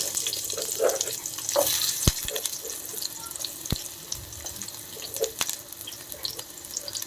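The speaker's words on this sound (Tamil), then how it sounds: "ஸோ கீ நல்லா ஹீட் ஆகிடுச்சு. ஸோ டேரெக்டாக ஆனியன்," Onions sizzling in hot ghee in a pan on the stove, a steady close hiss with a few sharp clicks and taps of utensils, with no talking.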